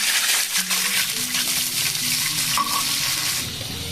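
Mustard paste hits nigella seeds frying in hot oil, giving a loud, continuous sizzle with scraping stirs of a spoon against the pan.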